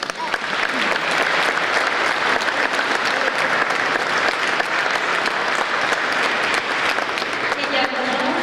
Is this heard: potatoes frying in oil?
no